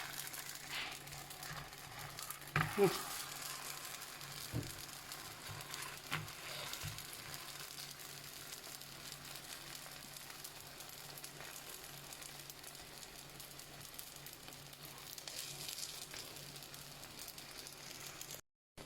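Moroccan msemen flatbread fries in a little oil in a pan, a faint steady sizzle and crackle throughout with a few soft knocks early on; no voices.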